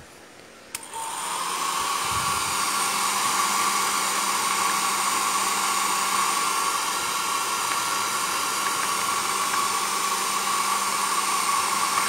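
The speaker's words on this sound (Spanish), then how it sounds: "Pero vamos a usar el secador." A hair dryer switches on with a click and blows steadily to dry painted rolled-newspaper sticks for basketry. The whir is a constant, fairly close hiss with a steady tone throughout.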